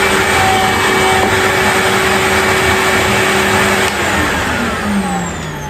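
A Numatic NVH180 vacuum cleaner running after a motor rebuild, giving a loud, steady, close whine and rush of airflow with a tonal hum that dips slightly toward the end.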